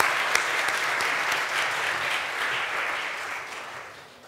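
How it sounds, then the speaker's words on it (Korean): A church congregation at Sunday worship applauds steadily to welcome a member, a dense, sustained clapping from many hands that fades slightly at the end. "우리 박수로 환영하면 참 좋겠습니다"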